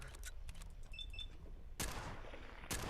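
Gunfire from a weapon in Fallout 4: Far Harbor, with scattered faint shots early on, then two loud broadband bursts, one sustained near the middle and another at the end, against constant game ambience.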